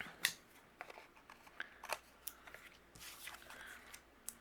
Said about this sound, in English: I'm going to trim a little bit off the top.